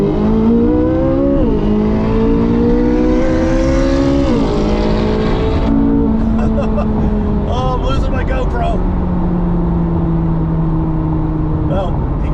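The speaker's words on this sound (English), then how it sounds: "All right, let's do a 50 roll now." A Corvette C8 Z06 and a modified Mustang racing from a 50 mph roll, loud engine roar heard from inside a car climbing through gears with clear shift dips, then settling into steady high-speed drone and wind noise.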